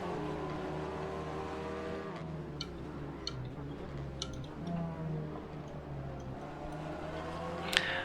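Race car engines from other cars heard externally in the Assetto Corsa racing game make a steady whining drone of several overlapping engine notes that rise and fall, moderately loud and continuous.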